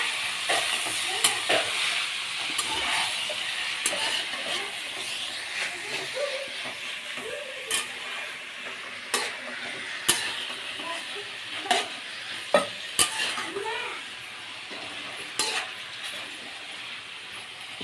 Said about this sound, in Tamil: காளான் போட்டாச்சு, நல்லா கலரி விடுங்க.